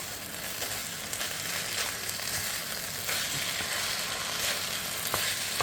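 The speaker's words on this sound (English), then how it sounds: "you just want to keep stirring so nothing sticks to the bottom of the pan" Chicken chow mein sizzling and frying in a pan while being stirred, a continuous close hiss with small scraping and clattering touches and no talking.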